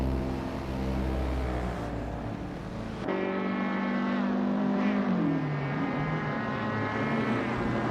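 Race car engines roaring in a video game race, a sustained high whine that shifts pitch as cars pass and change gears, loud and continuous with no talking.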